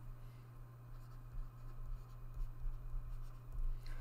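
Pen or marker writing numbers on a board during an engineering lecture, faint scratchy strokes over a steady low room hum, no talking.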